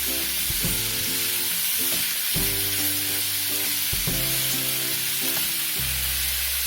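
Cabbage and boiled peas stir-fry in a hot pan with a bright, constant sizzle, heard beneath prominent background music with a pulsing beat.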